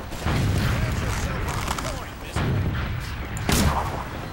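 Gunfire and explosions in the video game Team Fortress 2, dense and loud throughout, with a few heavier blasts standing out over the continuous battle noise.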